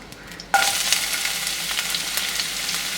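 Onion drops into hot oil already holding cumin and asafoetida, bursting into a sudden loud sizzle that keeps crackling and hissing steadily up close.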